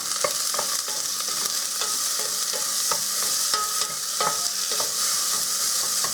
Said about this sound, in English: you can hear them sizzling